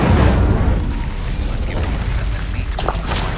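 Magic spell blasts from the Confringo and Incendio spells in the Hogwarts Legacy video game, a dense, continuous rumbling barrage of booming impacts at steady loudness.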